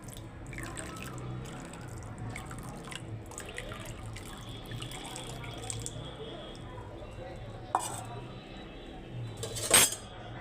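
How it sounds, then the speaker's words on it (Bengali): Sabudana pearls are rinsed under cold running water in a kitchen, with a soft steady trickle and drips, faint clinks of a bowl, and a couple of louder knocks near the end. "এবারে ঠান্ডা জল দিয়ে ধুয়ে নিচ্ছি ঠান্ডা জল দিয়ে দিচ্ছি"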